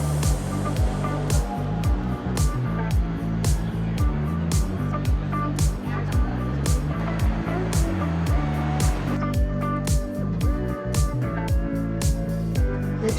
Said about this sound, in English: The tram is now departing.